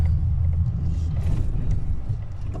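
A car rumbles over bumpy concrete pavers on a road construction stretch in Las Vegas, giving a steady low, heavy drone with uneven jolts.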